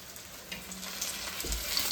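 Fish fries in oil on a tawa for a grandma's thava fry recipe, with a steady close sizzle and sharp spattering pops, and no voices.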